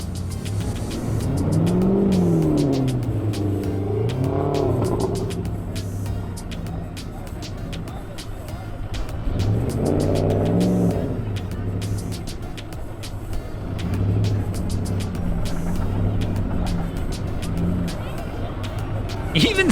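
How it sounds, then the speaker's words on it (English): A boat engine fired up while a vehicle revs during a stuck launch-ramp tow, with loud rising and falling engine surges repeating over a steady rumble while people talk throughout. "We're gonna fire the engine up on the boat and see if the Googans can get out now."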